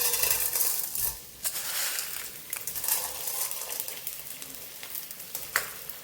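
Gond, an edible gum, frying in ghee for laddoo, giving a continuous crackling sizzle with occasional sharp pops and light stirring clinks close by, with no talking.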